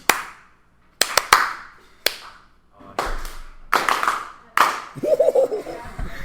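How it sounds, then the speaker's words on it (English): A teacher claps out a rhythm in a classroom: sharp, close hand claps in an uneven pattern of single hits and quick pairs, separated by short pauses, with some soft laughter toward the end. "I'm going to choose my clap rhythm now."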